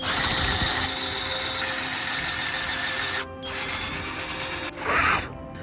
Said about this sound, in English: So I'll try to drill through this again.